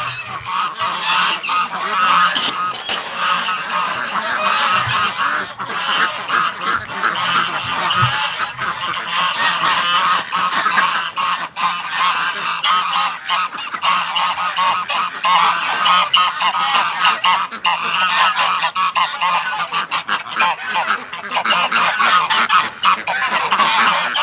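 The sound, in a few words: ducks and geese honking after being let out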